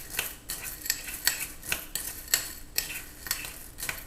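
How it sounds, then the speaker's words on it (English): Popcorn kernels coated with a squirt of olive oil are stirred in a container, giving a rhythmic run of dry, gritty scrapes and rattles, about two or three per second, close and evenly paced. "I'm just going to stir that to coat all my kernels"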